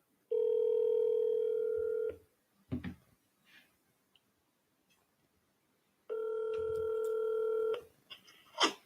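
A desk telephone placing an outgoing call, with two long steady dial or ringback tones separated by a pause, plus short clicks and handling noises in between, in an otherwise quiet office.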